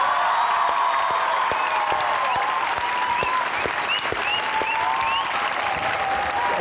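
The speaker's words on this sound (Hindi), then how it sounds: "आपकी भरपूर तालियों में इनाम भट्ट और जवान अलवर।" A studio audience at a television talk show gives loud, sustained applause, a dense wall of clapping that holds steady from start to finish.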